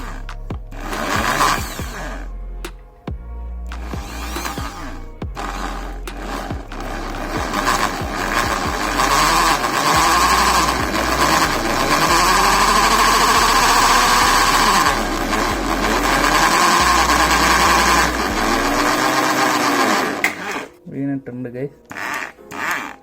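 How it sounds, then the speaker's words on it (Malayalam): An electric hammer drill runs in hammer mode on concrete with a loud, sustained rattling whine, starting in short bursts and then holding steady for long stretches before stopping. "ഹാമർ മോഡ് ഇട്ട് തന്നെ അടിച്ചു നോക്കാം"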